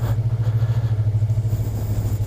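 A Yamaha R25 motorcycle idles close by on a Black Sea touring stop, its engine throbbing in a steady, rapid low pulse that stays loud and even throughout, with no voices.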